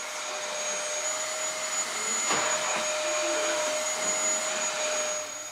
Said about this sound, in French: Passer l'aspirateur, ça fait partie des choses de la vie